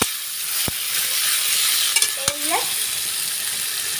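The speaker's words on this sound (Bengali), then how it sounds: "মাছগুলো দিয়ে দিয়েছি সব ফোড়নের মধ্যে এবার একটু তোমাদের মিশিয়ে দেখাতে" Pieces of marinated mixed fish stirred through hot oil with spice tempering give a continuous close sizzle, broken by a couple of sharp utensil knocks and a short scraping squeal.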